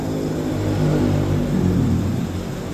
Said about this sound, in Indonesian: bisa hidup ya, bisa hidup, starter hidup, hasilnya ngebul